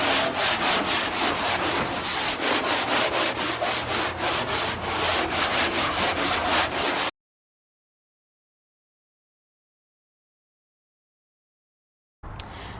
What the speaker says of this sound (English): just taking the sander in here